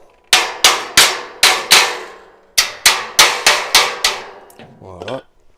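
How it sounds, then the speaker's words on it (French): Metal shower tray rail struck by a hammer in a bathroom: a rapid series of about eleven sharp, ringing clangs in two bursts, close and loud, ending with a brief scraping rattle. "Ça, on va le taper au marteau."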